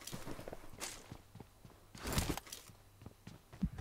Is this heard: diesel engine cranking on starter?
no